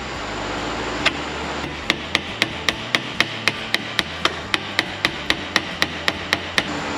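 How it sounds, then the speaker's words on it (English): Small brass hammer striking a 1995 Ford F-150 blower motor: a steady series of about twenty sharp, metallic taps at an even, quick rhythm, close up over a low background hum, no talking. "give it a whack with the hammer"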